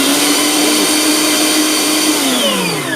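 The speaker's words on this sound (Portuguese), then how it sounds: "minha batedeira parece que ela tá em velocidade alta, mas ela não está" A powerful stand mixer whirs steadily on its lowest speed setting while beating sponge cake batter, a loud continuous motor drone with a high whine that shifts slightly in pitch near the end.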